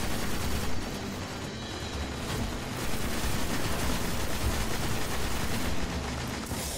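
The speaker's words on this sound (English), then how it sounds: "That chain gun can tear you apart." An enemy chain gun in Destiny, heard during a hard-mode strike, lets off a sustained, rumbling barrage of rapid automatic fire. It sounds close and steady with no gaps and no voices over it.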